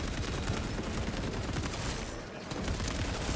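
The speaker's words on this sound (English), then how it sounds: "I love the sniper spam in this game." Sniper rifle fire in the Space Marine 2 video game forms a dense, continuous barrage of loud, close cracks with a brief lull near the end, and no talking is heard.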